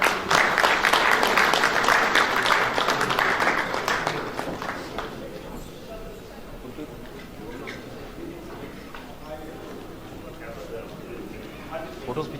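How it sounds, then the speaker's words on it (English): Graduation-day audience applause at Himgiri Zee University, loud clapping for the first few seconds that fades to scattered claps and murmuring crowd noise in a large hall. "All the audience, please clap for these gold medalists, these meritorious students."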